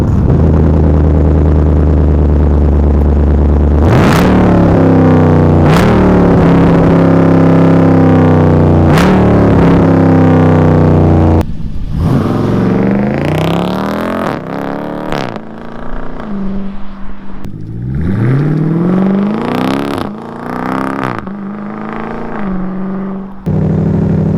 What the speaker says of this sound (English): let's go get a crazy loud exhaust clip.